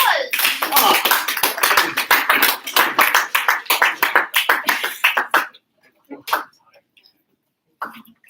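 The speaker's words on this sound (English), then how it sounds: "give yourself a round of applause." An audience in a classroom applauds after a student presentation, a brisk burst of dense clapping lasting about five seconds before thinning out into a few scattered claps and small sounds.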